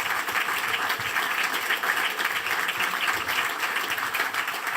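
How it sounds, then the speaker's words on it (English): A conference hall audience at a rail competition and regulation colloquium breaks into steady, sustained applause, an even wash of many hands clapping with no voices on top. "je pense qu'on peut vraiment les applaudir"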